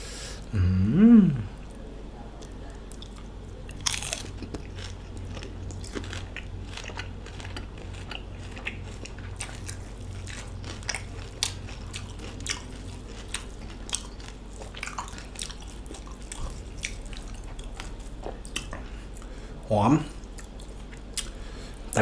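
Crunchy crispy fried pork belly is bitten and chewed close up, a scattered series of crisp cracks and soft munching, with a voice briefly heard at the start and near the end.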